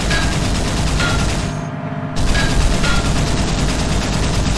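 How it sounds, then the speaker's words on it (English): Loud, dense automatic bursts from the coaxial machine gun on a modded LAV Jackal vehicle, with a short pause near the middle before heavy firing resumes. "And secondary weapon is a coax gun."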